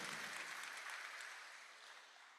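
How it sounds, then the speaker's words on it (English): An audience at a university matriculation ceremony claps for the deputy dean. The applause is faint and distant, a brief patter that fades over a couple of seconds. "Please, let's give him a round of applause."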